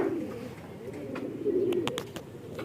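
A racing pigeon cooing near its loft, soft low coos close by with a few faint sharp clicks and flutters near the end.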